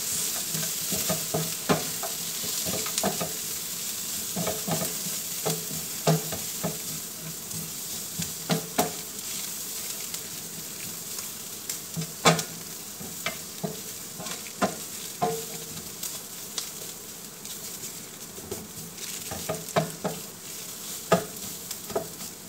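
Meat sautés with spices including cardamom, turmeric and cinnamon in a pan, producing a continuous soft sizzle with frequent clattering stirs and scrapes at an irregular rhythm throughout.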